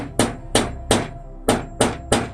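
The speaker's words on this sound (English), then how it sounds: "Hammer that one in." Six sharp hammer strikes ring out in a steady rhythm, a nail being driven in close up with bright metallic knocks, during pumpkin crafting.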